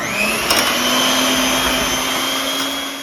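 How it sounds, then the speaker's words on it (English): Electric mixer beating white and brown sugar into a traditional Chaldean wedding cake batter, a steady close motor whine with a constant tone running unbroken throughout. "now we're gonna mix for at least 2 minutes"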